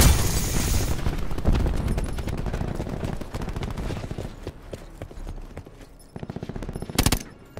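Rapid gunfire in the shooter game Call of Duty: Black Ops 4, loud dense bursts of automatic fire crackling for several seconds, thinning out, then another sharp burst near the end.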